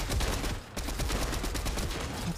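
Rapid gunfire from a shooter video game, dense bursts of shots firing continuously and loud throughout, with a brief gap near the start.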